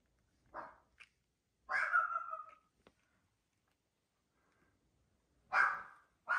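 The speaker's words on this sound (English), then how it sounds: "Sorry about my dogs barking." Dogs bark indoors in a few short separate bursts with quiet gaps between them, moderately close and sharp, with no talking.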